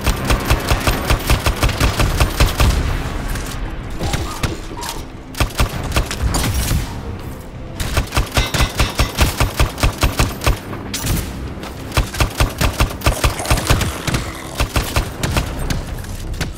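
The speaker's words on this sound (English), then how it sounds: "It's fully auto this gun" Fully automatic gun firing in the video game Anthem: long sustained bursts of rapid, loud shots with brief pauses between volleys.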